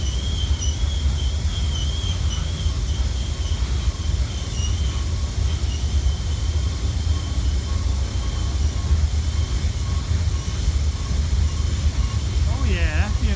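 Freight train with a cut of coal hopper cars rolling past close by, a steady loud rumble of wheels on rail with faint squeals near the end.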